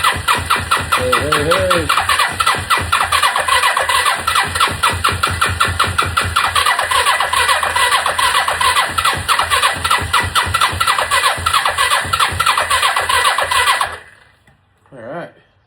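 A Kawasaki KZ300 motorcycle engine cranks on the starter in a rapid, loud, rhythmic churn, catching and firing intermittently for about fourteen seconds before cutting off abruptly; someone briefly speaks early on.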